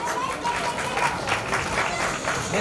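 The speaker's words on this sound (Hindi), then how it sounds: "तालियों से स्वागत किया जाए प्लीज।" A crowd at a family Ekadashi Udyapan function applauds steadily, many hands clapping in a dense, continuous patter with a faint murmur of voices beneath.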